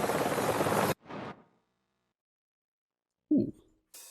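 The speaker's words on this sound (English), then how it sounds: "Just the copter sound?" A helicopter in the video game Wolfenstein: The New Order roars as a loud, dense rotor-and-engine wash for about a second, then cuts off into near silence broken by a few faint sounds.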